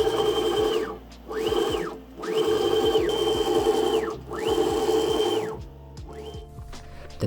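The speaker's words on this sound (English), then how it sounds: "I can travel the whole length of the Z-axis without it binding up," DIY CNC router Z-axis traveling along its length, a stepper motor whine sweeping up and down in pitch over four repeated moves with brief pauses between, close and clear with no talking.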